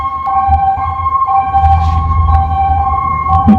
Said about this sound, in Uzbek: Tez yordam.